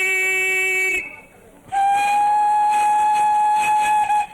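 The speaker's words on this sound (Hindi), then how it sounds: "सीटी है, बजाना भी आता है तुम्हें?" A whistle blows in two strong sustained shrill blasts, the first about a second long, then a short gap, then a longer steady blast lasting over two seconds, loud and close.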